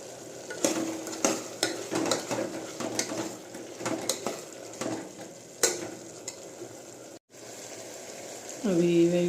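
Vegetable pieces frying in a pan with turmeric and salt for oats upma, with steady clattering stir strokes and scrapes over a low sizzle, close and fairly loud, ending in a brief gap and a burst of louder noise.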